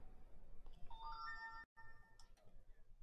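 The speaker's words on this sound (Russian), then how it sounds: "О, мне смс-очка пришла" A phone notification chime for an incoming SMS: a short run of faint bright electronic tones rising in pitch, a brief gap, then a couple of quieter closing pings.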